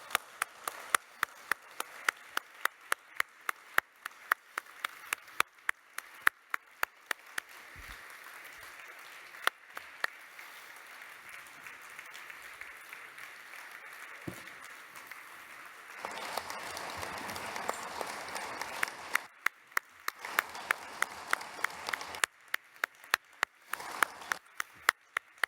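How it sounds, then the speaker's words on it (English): Scattered, fairly distant clapping from a conference audience after an economics talk, with sharp individual claps over a quiet room that thicken into fuller applause midway before thinning again. "A great applause to Joseph Stiglitz."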